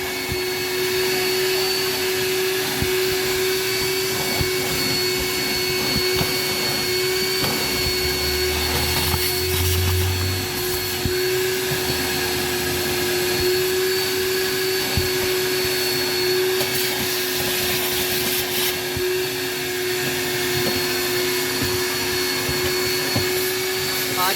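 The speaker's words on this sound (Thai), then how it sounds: "ทำการดูดฝุ่น" Vacuum cleaner sucking dust from behind the removed dashboard of a Mazda3 with 203,230 km, a loud, constant whine and rush droning unbroken from start to finish.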